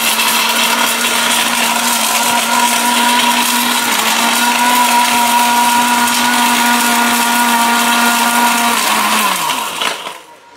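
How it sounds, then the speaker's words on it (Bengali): A heavy-duty blender with steel bushes grinds hard brick, a loud, steady motor whine that holds constant, then drops in pitch and cuts off near the end. "এত heavy duty Blender, still বুশের Blender"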